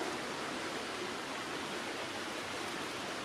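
A river flows past a hammock campsite as a soft, steady broadband rush, faint and unbroken throughout.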